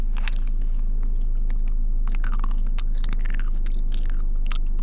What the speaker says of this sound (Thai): รอโหลดแมปผมก็จะมา ASMR ให้ทุกคนฟังนะฮะโดริโทสนะฮะ